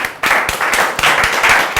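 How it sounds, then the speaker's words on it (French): Short, loud burst of audience clapping at the Vodacom Best of the Best 2019 televised talent show, with sharp individual claps pulsing at a quick, uneven rhythm. "Est-ce qu'on peut l'applaudir d'abord hein?"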